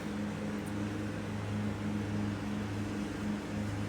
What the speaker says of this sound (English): My neighbor cutting their grass, so sorry if y'all can hear that in the background.